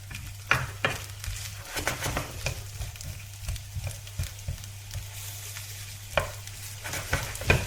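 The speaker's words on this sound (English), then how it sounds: "So I'm going to cook these on medium heat for about a minute or so. Just stir them around." Vegetables stirred and fried in a pan over medium heat for a spicy Spanish egg dish, a soft continuous sizzle broken by repeated close scraping and clacking strokes of the utensil.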